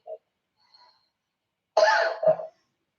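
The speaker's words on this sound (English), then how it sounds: "I'm sorry, I coughed over you." A single harsh cough, close and fairly loud, with a short second burst at the end, preceded by a faint small sound and otherwise quiet.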